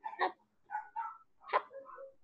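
The neighbour's dogs bark repeatedly from a distance, several faint yips and barks in an irregular rhythm with short pauses, no talk over them.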